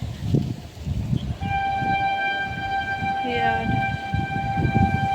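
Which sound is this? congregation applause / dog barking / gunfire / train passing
train passing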